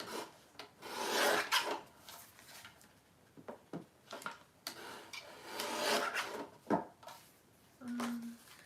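Scissors or a trimmer cut down a paper journal card made from a collage masterboard, giving close, repeated rasping strokes with short pauses, and a brief low hum near the end.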